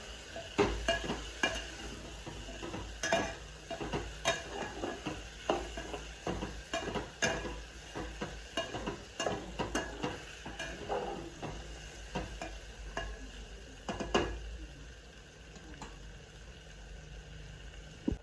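Washed peas, eggplant and potato being sautéed in a pan for spicy Maharashtrian masale bhat, with repeated clinks and scrapes of a spoon against the metal over a faint sizzle.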